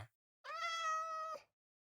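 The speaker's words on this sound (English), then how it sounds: "I hear you, kitty." A Minecraft cat gives a single clear, drawn-out meow lasting about a second, alone against silence.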